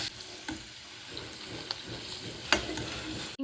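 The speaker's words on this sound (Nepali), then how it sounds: "यहाँनिर फिङ्गर पनि फ्राई गर्दैछु" Potato fingers fry in oil with a quiet, continuous sizzle, marked by a few sharp clicks and pops from the pan and utensils, close and without speech.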